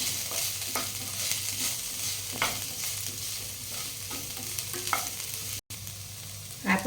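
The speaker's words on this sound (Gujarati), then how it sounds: "હવે આપણે આદુ મરચાંની પેસ્ટ નાખીશું. એને પણ આપણે સરસ સાતરી લઈશું." Ginger-chili paste sizzles in a pan with cabbage, frying steadily while a spoon stirs and scrapes at intervals, close and fairly loud, with no voices.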